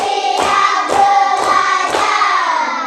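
A classroom group claps together in a steady rhythm, five loud, evenly spaced collective claps ringing out with no talking over them.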